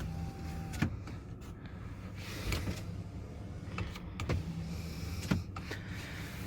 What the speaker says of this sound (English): you have your power rear window